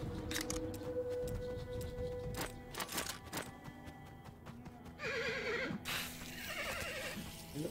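In the video game Colt Canyon, scattered clops and clicks lead up to a loud, wavering horse whinny near the end, followed by a second shorter neigh; nobody speaks.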